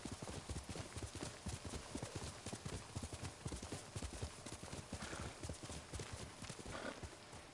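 The horse Kage gallops in the video game Ghost of Tsushima, its hooves pounding in a rapid, steady rhythm that runs continuously and loudly up close with no break.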